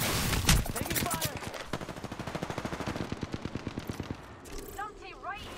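Rapid automatic gunfire in a shooter video game rattles off in long, loud bursts of evenly spaced shots, tapering into scattered effects at the end.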